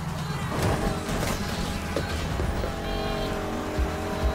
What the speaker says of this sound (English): It seems like it's automatic drifting.